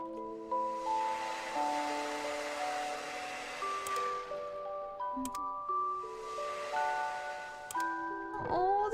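Gentle music box melody from the video game Undusted, plucked tinkling notes in a steady cute tune, with a brief soft swoosh and low thump near the end.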